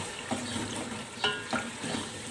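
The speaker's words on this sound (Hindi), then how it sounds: "अब हम इनको 1 से 2 मिनट के लिए मिर्चों को फ्राई कर लेते हैं।" Green chillies fry in masala in a pan for beef moti pulao, a close, continuous hiss and crackle with a few stirring scrapes popping out of the sizzle.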